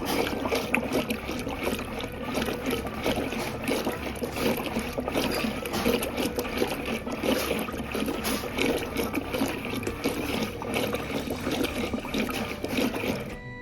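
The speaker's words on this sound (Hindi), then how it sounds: "इसमें मैंने दही जो जमा रखे तो वो गाल लियो, तो 2 गिलास में पानी गिर था और फेंट लूँगी" Curd and water are whisked together into lassi inside a clay pot, giving a steady, continuous churning and sloshing that runs dense and even throughout with no talk.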